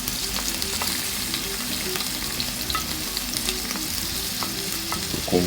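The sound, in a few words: red onions and sweet pepper frying in olive oil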